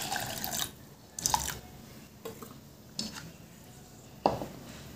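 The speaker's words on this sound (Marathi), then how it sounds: "आता यामध्ये आपल्याला पाणी घालून घ्यायचं आहे डाळ बुडेपर्यंत।" Water is poured over washed lentils in a pot for Vidarbha-style dal bhaji, heard as faint splashes, drips and a few light pot clinks in irregular bursts, with no talking.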